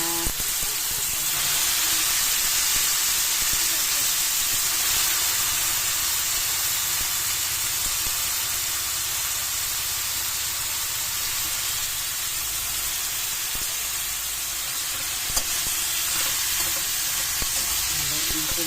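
Bitter gourd (ampalaya) is sautéed in a pan with tomato for ginisang ampalaya with eggs. A continuous close sizzle hisses throughout with faint occasional stirring clinks and no clear speech.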